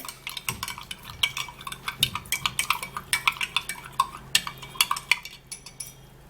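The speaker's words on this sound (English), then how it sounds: "I'm going to be squeezing a good quantity of lemon juice into this, and then I'll give it a good stir." A spoon stirs freshly squeezed lemon juice into a drink, giving a quick run of close, bright clinks and scrapes against the glass in an uneven rhythm with no talk.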